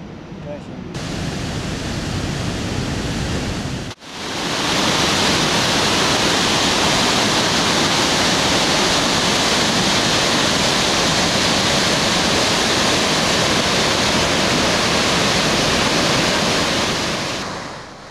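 Rushing water of the Marsyangdi River on the Annapurna trek, a loud, steady, broadband roar that fills the whole clip, briefly interrupted near the four-second mark before resuming at full strength.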